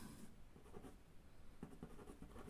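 Chalk or marker writing on a classroom board while labelling tangent lines for a class 10 geometry construction: quiet, close scratchy strokes in short bursts, with no talking.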